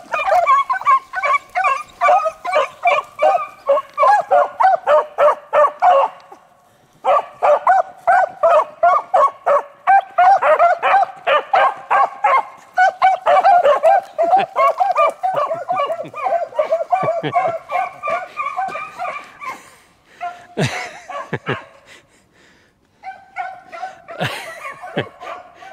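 A pack of beagles bays and yips in rapid, overlapping bursts while trailing a rabbit on a hunt. Whimpers and a brief lull come near the end, with the barking loud and close.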